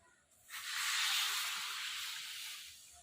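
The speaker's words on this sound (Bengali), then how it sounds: "এবার ওই টমেটো সিদ্ধ করা জলটা দিয়ে দেবো।" Tomato-boiled water poured into a pan of Bengali fish curry: a sudden loud hiss rises after a brief pause, then holds steady and slowly fades, with no voices.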